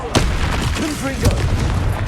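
Confringo spell blasts in Hogwarts Legacy burst out as a couple of sharp booming impacts over a busy game soundscape, loud and close, with brief tonal swooshes between them.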